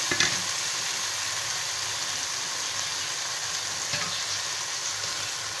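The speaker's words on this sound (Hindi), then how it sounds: "और इनको भी अच्छे से भुनेंगे मसाले के साथ" Taro root (arvi) frying and being stirred with spices in a pan for a Pakistani-style bhujia, giving a steady, close hiss of sizzling oil with occasional scraping stirs and no talking.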